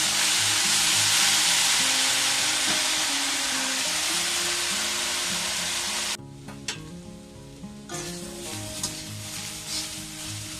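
Chana saag, chickpea greens, fries uncovered in a pan over lowered heat, giving a loud, dense hiss that drops abruptly partway through to a quieter crackle with scattered spoon clicks, and a low tonal hum beneath throughout.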